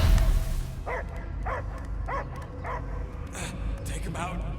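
A dog, a possessed creature's companion in Marvel's Guardians of the Galaxy video game, gives a run of about six evenly spaced barks and yips over a low droning game soundtrack, moderately close, with voices speaking at times.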